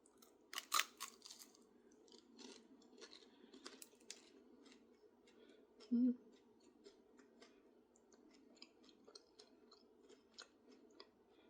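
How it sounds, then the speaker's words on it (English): Biting into a stale cereal-topped cookie, a sharp crunch followed by soft, quiet chewing crackles spread across the stretch, close and faint, with a brief low murmur in the middle. "I'll take a bite of this one."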